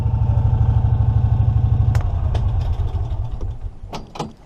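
CVT clutch weights in an EZ-GO ST 4x4 golf cart rattle with a steady rapid mechanical chatter as the engine idles, then the rhythm loosens into uneven clanks and a few sharp knocks as it slows, close and loud.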